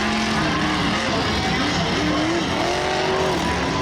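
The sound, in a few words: monster truck engine on the track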